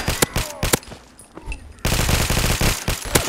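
Machine gun fire in the Fallout 4 video game, rapid bursts of close, loud automatic shots with a brief lull in the middle before a sustained stretch of firing.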